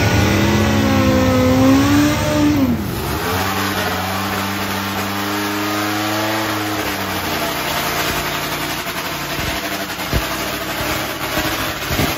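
Race car engine revving hard and accelerating, a loud close roar whose pitch climbs and then drops into a steady high drone that carries on alone to the end.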